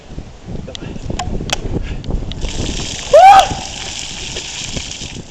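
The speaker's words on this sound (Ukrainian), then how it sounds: "Облився крижаною водою, зробив добру справу." A bucket of ice-cold water poured over a man in Cherkasy: a single loud, short splash lands just past the midpoint, after a stretch of people talking and shuffling nearby.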